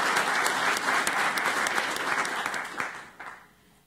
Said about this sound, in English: So let's give them some applause.